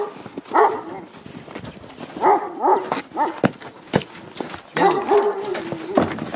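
A white Kangal dog gives a few short barks and whimpering yips, with pauses between them, close by and moderately loud.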